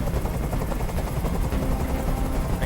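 Helicopter hovering in the video game Detroit: Become Human, a steady, loud rotor roar with a low rhythmic thump that fills the whole stretch without pause, no voices over it.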